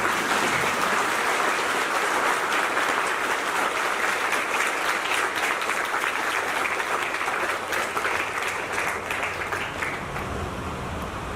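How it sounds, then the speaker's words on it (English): A large audience at a felicitation event gives sustained, dense applause for the participating children, a loud and even wash of clapping that holds for over ten seconds and eases slightly at the end. "please give a round of applause to all the kids who have participated today"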